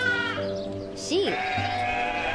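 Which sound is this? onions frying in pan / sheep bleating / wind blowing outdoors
sheep bleating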